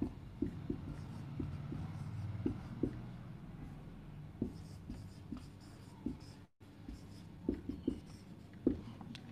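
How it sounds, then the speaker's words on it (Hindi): Chalk or marker strokes from a teacher writing numerical values on a board during a chemistry lecture, heard as a series of short scratchy taps spread across the clip over a low steady room hum. "मैं वापस से यहां पे वैल्यूज लिख दे रहा हूं।"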